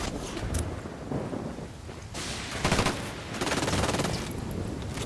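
Dense, noisy gunfire from Ghost Recon Wildlands, a tactical shooter video game, rolls in bursts of broadband crackle that swell twice, near and fairly loud, with no voices over it.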